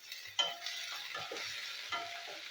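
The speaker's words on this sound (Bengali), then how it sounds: "সামান্য নুন দিয়ে দেবো, দিয়ে উচ্ছেগুলো আমি ভেজে নেবো।" Bitter gourd slices fry in a pan with a little salt, giving a steady close sizzle broken by a few sharp scrapes and clacks of stirring, with no talking.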